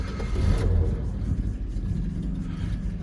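A Chevrolet Opala 250S engine fed by a DFV 446 carburetor idles with its mechanical tappets, a steady close low rumble with a faint ticking layer and a brief swell near the start.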